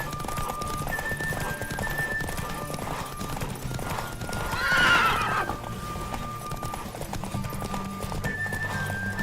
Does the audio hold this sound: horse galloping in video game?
yes